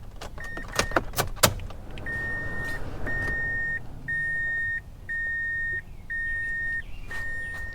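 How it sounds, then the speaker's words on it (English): A Mazda's ignition switched on with the key, its chime beeping in a steady repeating pattern of sustained tones after a few sharp clicks, close up inside the car. "We're going to turn our ignition on."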